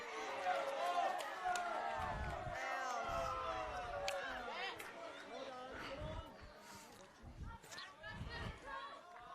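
Crowd at a football match, a broad murmur of chatter and cheering that swells and fades behind continuous commentary.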